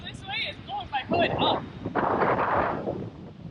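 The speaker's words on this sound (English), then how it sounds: "It is so windy." Strong coastal gusting wind in Astoria, Oregon buffets the microphone with loud broadband rumble, surging in waves, while a voice briefly speaks over it near the start.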